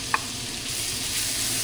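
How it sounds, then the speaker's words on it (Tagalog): Crushed garlic fries in butter in a pan, giving a steady, fairly loud broadband sizzle throughout, with one brief clink of stirring near the start and no talking. "Ayan, pwede na natin ilagay yung ating crushed garlic."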